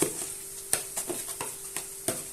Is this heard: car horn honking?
no